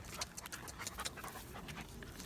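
A Dogo Argentino puppy pants close by outdoors in quick, soft, breathy bursts, with a faint whimper mixed in.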